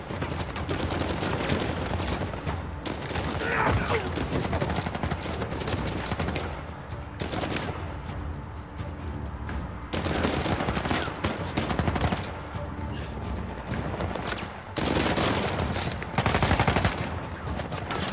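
Repeated automatic gunfire bursts in Uncharted 4: A Thief's End ring out at moderate loudness, coming in waves with brief lulls between volleys over ongoing game ambience.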